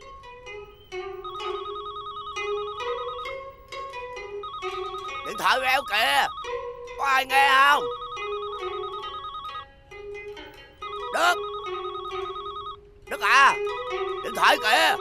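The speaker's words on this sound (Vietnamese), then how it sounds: "điện thoại sát bên mà cũng nghe giùm nữa" Telephone ringing in repeated electronic trills, each ring lasting a few seconds with short gaps, steady and fairly loud, with people talking over several of the rings.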